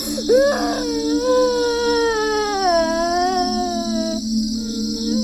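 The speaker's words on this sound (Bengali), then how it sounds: "মনে হচ্ছে তো একটা বাচ্চা কান্না করতেছে।" A baby crying in a horror story setting at night: a single sustained, rising and falling wail that carries on for several seconds, close and loud over a steady high background hum.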